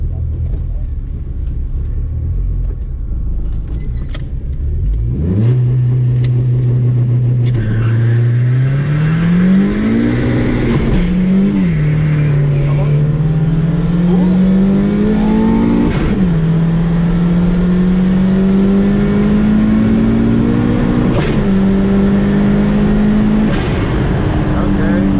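Big-turbo 1.8T Mk2 Volkswagen GTI launching at a drag strip with wheel spin: the engine revs up hard and climbs through several gear changes, loud and sustained from inside the car.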